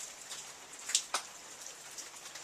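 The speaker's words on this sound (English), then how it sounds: "Mixed snow and rain on our lilacs that are budding." Mixed snow and rain falls softly on budding lilac bushes outdoors in early spring, a faint steady patter with a couple of brief sharper drip taps standing out.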